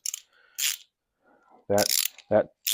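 A ratchet clicks in short sharp bursts, close and loud, loosening bolts while a Poison Spyder bumper is being installed, with pauses between the strokes and faint background noise.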